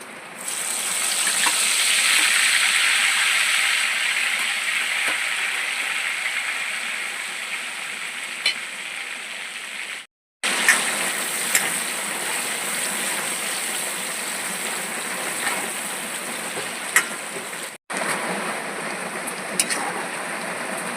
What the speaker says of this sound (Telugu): రొయ్యలైతే వేగిపోయాయి తీసేయచ్చు పక్కకి